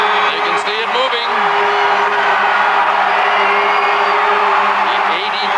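Massive New Year's Eve crowd packed into Times Square, New York City, as the ball begins to move: continuous loud roar with scattered whoops and cheers, a constant hum beneath and a few brief calls on top.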